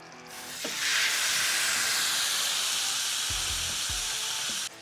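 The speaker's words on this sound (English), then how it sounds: "Let's throw some butter on there." Butter hits a hot Ninja Woodfire XL Pro grill beside a ribeye steak and breaks into a loud, steady hissing sizzle that holds for several seconds, with a few soft knocks underneath.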